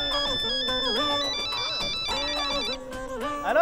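A melodic phone ringtone plays a repeating electronic tune, fairly close and steady, with a brief pause before it starts again.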